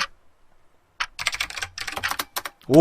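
Close computer keyboard typing while playing the 2D horror game Paranoiac on PC: after a near-silent pause, quick clattering bursts of keystrokes in an uneven rhythm.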